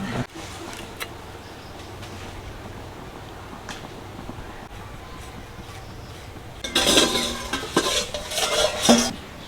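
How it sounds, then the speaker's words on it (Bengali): In a home kitchen, fish is being cut and boiled eggs peeled. Soft handling and scraping noises come first, then clattering of utensils and dishes that grows louder in the last few seconds. "আমার মেয়ে মাছ কাটতেছে আমি ডিম ছাড়াচ্ছি"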